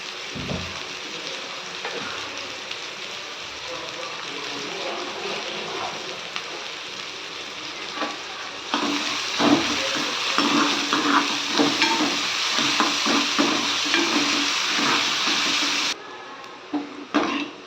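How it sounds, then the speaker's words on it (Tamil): Onions with salt sautéing in a pan, a continuous sizzle with scraping stir strokes that grow louder and busier midway, close up, no voices. "வெங்காயம் பார்த்திங்கன்னா இந்த அளவுக்கு வந்து வதங்கணுங்க."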